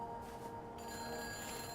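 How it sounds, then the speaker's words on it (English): In the video game Everybody's Gone to the Rapture, a telephone rings in a house, a faint, steady electronic bell tone heard alone for under two seconds. "There's a ringing phone over here, though."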